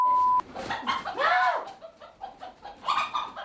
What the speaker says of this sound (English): such a weird chicken.